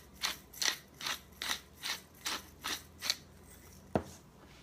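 A pepper mill grinds pepper for a pulled pork rub, giving about eight evenly spaced crunchy grinding bursts, close and clear, followed by a single sharp click near the end, with no talking.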